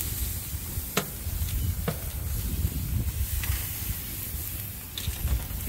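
Steady sizzling hiss of octopus searing on a hot grill, with a few sharp crackles and pops scattered over the constant frying noise.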